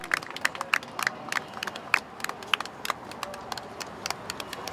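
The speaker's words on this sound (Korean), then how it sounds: "힘찬 박수 부탁드립니다" Scattered applause rises from a small gathering at a memorial event for bereaved families. Sharp individual claps ring out unevenly and fairly close, thin rather than a full ovation, with no talking.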